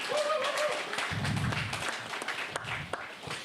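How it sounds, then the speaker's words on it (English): Brief, moderate clapping from a festival audience at a panel discussion on cancer, scattered hand claps that thin out toward the end, with a faint voice early on. "So, wonderful round of applause for you people"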